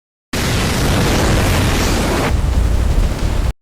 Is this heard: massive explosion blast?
yes